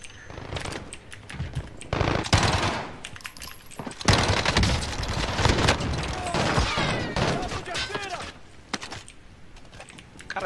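Chaotic gunfire from a Call of Duty video game, dense bursts of rapid shots and impacts throughout, with a player talking excitedly over the action.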